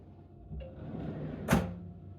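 A kitchen bin drawer in a newly renovated kitchen slides and bumps shut, one soft thud near the end of a short, quiet stretch of room noise.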